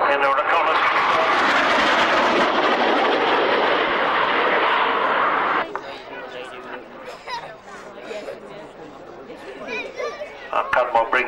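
A military jet roars past at an airshow at Old Warden, a loud broad rushing engine noise for about six seconds that cuts off sharply, followed by quieter crowd chatter and a voice over the public address.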